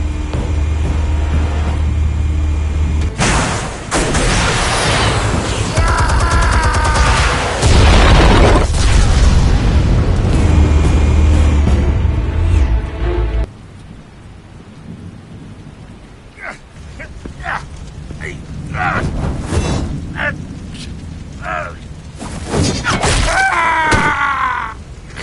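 Explosives detonate in Batman: The Telltale Series, heavy rumbling booms rolling loud for several seconds before dropping to quieter scattered impacts and a voice.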